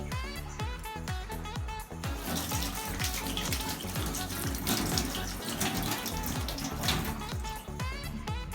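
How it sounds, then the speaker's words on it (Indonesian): Continuous running tap water gushes steadily while hands are washed with soap in the six-step handwashing routine before a postnatal physical examination, loud and unbroken throughout. "melakukan cuci tangan 6 langkah menggunakan sabun dan air mengalir"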